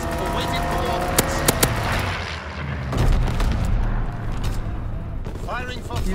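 Artillery fire in the World War II shooter game Call of Duty WWII, a steady heavy rumble of distant booms with a few sharp cracks, continuous and loud, with no talk over it.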